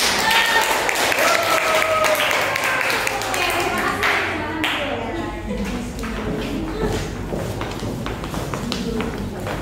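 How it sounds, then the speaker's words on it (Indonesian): Classmates clap for one another in a classroom, a dense patter of many hands that holds steady for several seconds. A teacher's voice speaks briefly over the clapping. "Beri tepuk tangan buat teman-teman."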